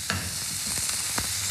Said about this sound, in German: Die können wir jetzt nebenbei schon mit anbraten, also andünsten.